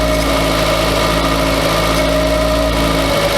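A barn-find Volkswagen Scirocco engine idles steadily and loudly up close, a continuous low hum with faint vibration and occasional irregular noises, no voices.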